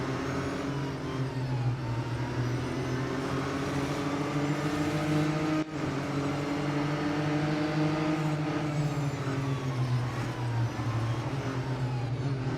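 A race car engine in the Real Racing 3 video game drones continuously with a high, whiny tone, holding steady and loud throughout with slight rises and dips in pitch as it accelerates.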